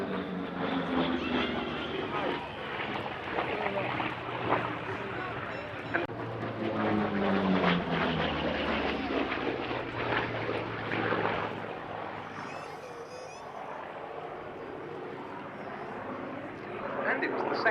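A WW2 propeller fighter plane flies past at the Duxford airshow. Its engine drones loud and steady throughout, with a spoken commentary running over it.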